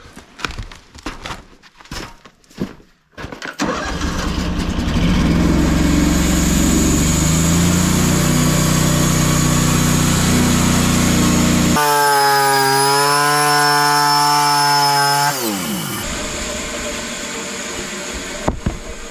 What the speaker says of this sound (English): I left them a little bit high just so I could show you another thing that we can do with the bandsaw